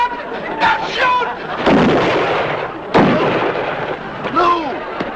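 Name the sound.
gunshots fired at a bear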